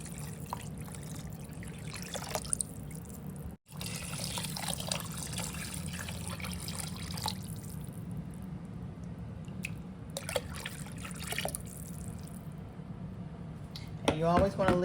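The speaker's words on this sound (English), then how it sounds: "let's start adding our water to our soup." Water pours steadily into a pot of navy bean soup with a continuous liquid rush, a brief pause early on, and a few faint clinks over the flow.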